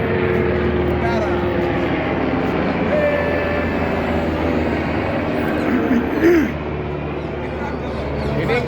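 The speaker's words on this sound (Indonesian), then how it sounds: "Ini nggak bagus kalau ada helikopter begini, artinya mungkin ada berluka." A US military Apache helicopter passes overhead outdoors, its steady droning rotor and engine rumble continuous throughout, while people talk nearby.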